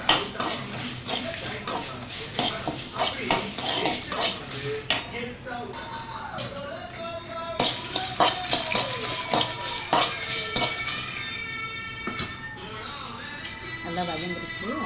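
Frying and stirring in a pan, with clinks and scrapes of a metal spoon against cookware, while a person talks over the cooking throughout.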